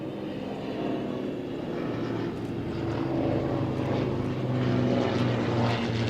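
A Hawker Hind biplane with a single piston engine and propeller flies past at an airshow, giving a steady, moderately loud drone that swells a little toward the end, with no talk over it.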